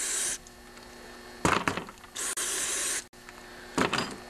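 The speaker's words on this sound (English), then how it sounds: "I run some more carb cleaner just to rinse out any debris" Bursts of carb cleaner hiss from an aerosol can onto a Yamaha Big Bear ATV carburetor, several short and longer sprays separated by brief pauses, close and fairly loud with no talking.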